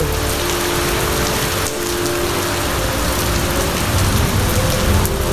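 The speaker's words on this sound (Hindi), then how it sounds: "ज़बरदस्त बारिश हो रहा है" Heavy rain pours steadily during a thunderstorm in Bhubaneswar city, a loud, dense hiss of drops drumming on surfaces with no break.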